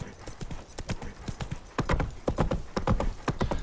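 Roach, a horse in The Witcher 3, gallops in quick, steady hoofbeats that grow louder and denser partway through, with a brief whinny-like tone near the start.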